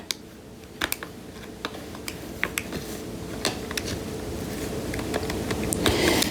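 Keys on a computer keyboard tap in irregular close clicks, scattered single strokes over a low background hum that grows slightly toward the end.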